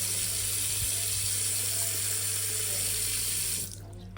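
Water gushes from a tap into a sink after plumbing is reconnected, a loud, steady rushing flow with a constant low hum beneath it, cutting off abruptly just before the end.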